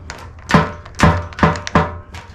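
Handlebars of a CX500 motorcycle turned to full lock knock lightly against the fuel tank, giving four dull thunks spaced about half a second apart, close and fairly loud with no talk.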